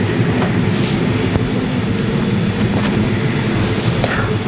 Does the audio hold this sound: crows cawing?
no